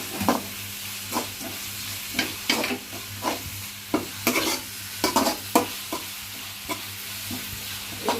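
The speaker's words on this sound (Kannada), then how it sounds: "ಈರುಳ್ಳಿ ಚೆನ್ನಾಗಿ ಫ್ರೈ ಆಗಬೇಕು" Onions frying in a hot pan for a mutton gravy, a steady soft sizzle under repeated scraping and stirring strokes from a spoon, close and fairly quiet with no talking.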